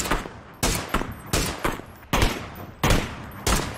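Rapid bursts of gunfire, about six loud sharp shots in an uneven rhythm, each cracking out close by and alone with no talk.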